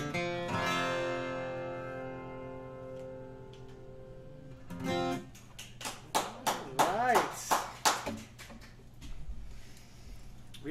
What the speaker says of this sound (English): thank you to the very safe number of people in the room for the tentative clapping